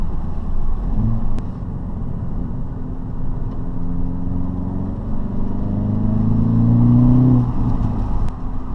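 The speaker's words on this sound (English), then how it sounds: "This car is so enjoyable to drive." Car engine accelerating under load while driving quickly, a rising rumbling drone that climbs in pitch near the end, steady and close with no talking.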